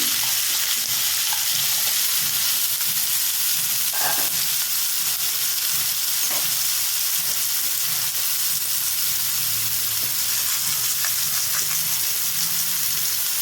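Onions and garam masala fry in a pan, making a loud, continuous hissing sizzle, with occasional stirring scrapes from close by.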